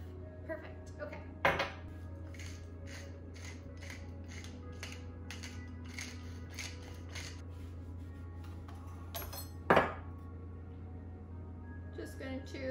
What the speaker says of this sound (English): Just going to gently whisk this together since I put it in a bowl that is probably too small